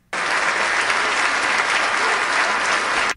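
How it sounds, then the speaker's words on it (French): A gala audience applauds itself in a hall at the show's close, dense and loud, a steady wash of many hands clapping from start to finish with no voices on top. "Puis là, vous avez le droit de vous applaudir. Applaudissez-vous."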